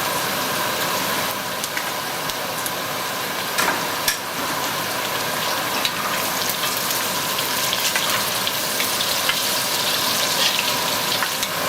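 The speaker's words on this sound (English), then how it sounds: "I'm going to allow this to saute for about a minute." Galangal root sautes in a pan for Javanese bami goreng, giving a steady, close sizzle and crackle that runs continuously without talk.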